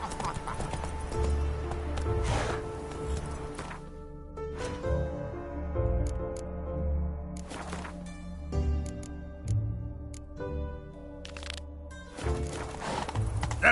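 Roach the horse gallops in The Witcher 3, a steady clip-clop of hooves throughout under game music, with occasional whinnies and snorts.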